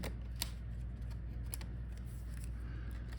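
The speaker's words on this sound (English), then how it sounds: "So now we are pulling out our motherboard, so let's disconnect all the cables." Cables being unplugged from the motherboard of a Dell Inspiron 3501 laptop during disassembly make faint, close clicks and soft plastic rustling, scattered irregularly over a quiet background.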